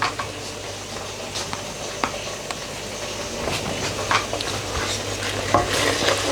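Pakora kadhi, a Punjabi yoghurt curry with fried gram-flour fritters, being stirred in a pot after the gas is turned off, with soft scraping and light bubbling sizzle under a steady background hum, no talking.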